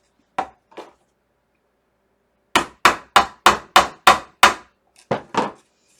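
Sharp metallic hammer strikes drive a nail over a small anvil. Two separate taps come first, then a quick run of seven evenly spaced blows and two more, loud and close with nothing else heard.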